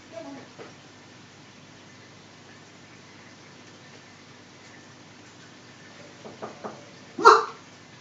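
A dog gives a single short, fairly loud bark near the end, after a few faint scrabbling sounds in a quiet room.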